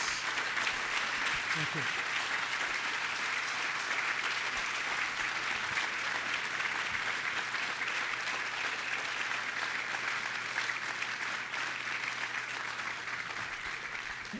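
A conference audience gives the keynote speaker sustained applause at an education summit. The clapping is dense and steady throughout, heard from within the crowd, with a brief spoken thanks.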